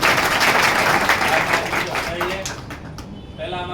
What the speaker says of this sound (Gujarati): એટલે તાળીઓ પાડીને આપણે